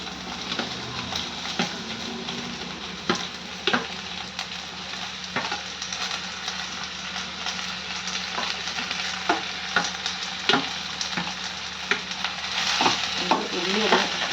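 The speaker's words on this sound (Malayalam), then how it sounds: "കുറച്ച് വെളിച്ചെണ്ണ, എന്നിട്ട് അതിലേക്ക് നമ്മൾ ഡയറക്റ്റ് ഈ ഉള്ളി ഇടുകയാണ്." Sliced onions fry in coconut oil for an egg roast, a steady close sizzle broken by repeated scraping stirs of a spoon against the pan, no voices.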